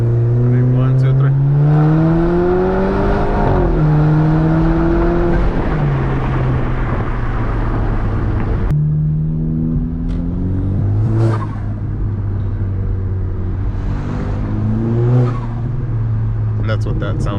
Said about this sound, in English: that's what the blow-off valve sounds like, and some pulls in the car